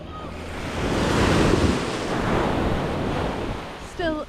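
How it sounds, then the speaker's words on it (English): Surf breaking and washing up on Hot Water Beach on the Coromandel coast of New Zealand, a steady broad roar of waves with wind across the microphone, rising and falling gently throughout. "Still a beautiful beach."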